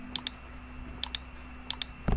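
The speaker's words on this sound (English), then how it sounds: "I just type in, I come down, I type in, come down, type in" Keys clack on a computer keyboard in three quick pairs of clicks spaced evenly apart, over a low steady hum, with a louder knock at the end.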